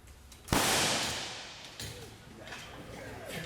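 A single sharp bang from a power line cutout fuse rings out and trails off into a long decaying rumble, followed by faint background noise.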